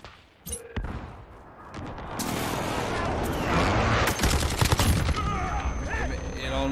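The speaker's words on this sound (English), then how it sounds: "friendly precision airstrike inbound" Precision airstrike in the Halo video game, a burst of sharp blasts and rumbling explosions building into sustained loud booming with crackling debris, close and dense.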